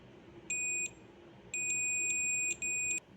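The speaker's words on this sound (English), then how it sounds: "I'll use a multimeter here." A multimeter on continuity mode beeps while probing for the ground pin on a BLHeli_S ESC board: a short high tone, a pause, then a longer steady tone and a final brief beep, clear and close in a quiet room.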